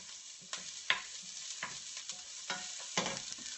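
Asparagus stirred and frying in a hot pan, a steady broadband sizzle broken by sharp scrapes and clacks of the utensil at irregular intervals, close and fairly loud with no voices.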